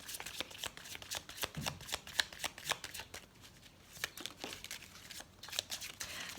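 Tarot cards are shuffled by hand, a close, steady run of papery riffling and slapping flicks repeating throughout with no talk.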